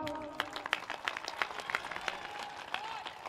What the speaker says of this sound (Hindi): जरा एक बार यूपी वाली तालियां बजा कर दिखाओ।